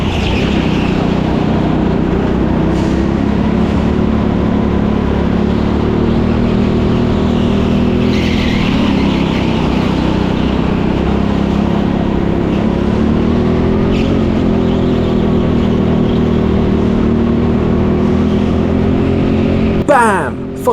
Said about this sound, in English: My kart may be feeling slow on the straights, especially compared to Darcy's just up ahead